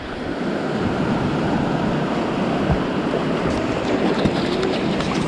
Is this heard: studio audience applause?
no